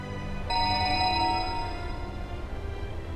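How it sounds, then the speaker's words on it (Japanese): A mobile phone rings in the game 428 Shibuya: a bright electronic tone comes in abruptly after half a second and sustains for about a second over steady background music. "ジャックのポケットの中でマリアの携帯電話が鳴った"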